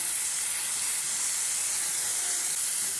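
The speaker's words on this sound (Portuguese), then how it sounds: "Aí eu vou dar uma fritadinha nesses temperos aqui." Seasonings with garlic and onion fry in hot pork lard, giving a steady, loud, even sizzling hiss with no pauses and no talk.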